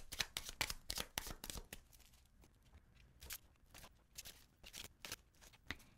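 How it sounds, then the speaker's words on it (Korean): Tarot cards are shuffled and drawn during a weekly fortune reading, quick crisp riffling bursts and soft slaps of cards, close and fairly quiet, with no talking. "카드 뽑아 보겠습니다."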